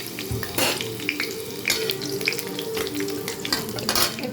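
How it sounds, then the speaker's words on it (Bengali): Dry red chillies frying in hot oil for a Bengali tempering, with steady crackling sizzle and occasional clinks of a stirring utensil against the pan, close and continuous with no talking. "তো আমি প্রথমে শুকনো লঙ্কাগুলো দিয়ে দিচ্ছি"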